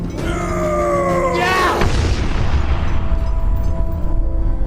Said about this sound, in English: An explosion of green light erupted in the room.